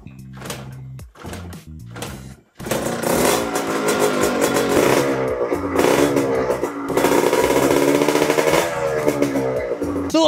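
Yamaha RZ motorcycle with an open engine spec revving, beginning with a few short blips and pauses before a sustained, loud, raspy two-stroke rev close by that climbs and holds for several seconds.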